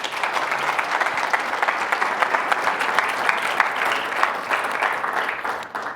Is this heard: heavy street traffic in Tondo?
no